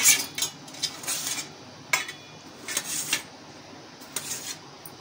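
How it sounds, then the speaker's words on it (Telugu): A knife cuts tomatoes into large chunks on a plate: light, crisp scrapes and taps of the blade against the plate come in short irregular strokes, close and fairly quiet, with no talking. "ఈ విధంగా కట్ చేసుకోవాలి పెద్ద పెద్ద ముక్కలుగా"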